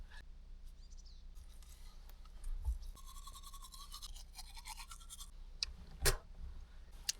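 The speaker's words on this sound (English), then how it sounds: "here's how you brush your teeth with no running water" Toothbrush scrubbing teeth outdoors with no running water, a steady close-up bristly scratching that runs throughout, with a few faint bird chirps and a sharp click near the end.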